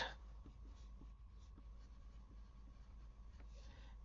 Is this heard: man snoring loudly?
no